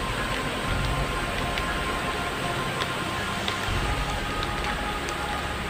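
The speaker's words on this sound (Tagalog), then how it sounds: "Tatlong araw na itong umuulan guys." Steady rain after days of downpour falls outdoors as a continuous hiss, with scattered drops ticking on surfaces and a low rumble underneath.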